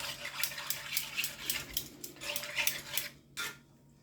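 A spoon clinks repeatedly against a pot while beef broth is stirred in for French onion meatballs, a quick rhythmic run of close metallic scrapes and taps with no voices.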